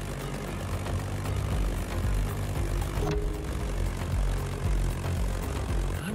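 A propeller airplane engine in the racing game The Crew Motorfest drones steadily and loudly throughout, with a low rumbling hum and a brief gust-like swell near the middle; no one speaks.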